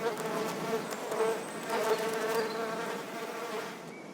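Steady buzzing of bees, a close droning hum that wavers in pitch as insects move about, continuous throughout.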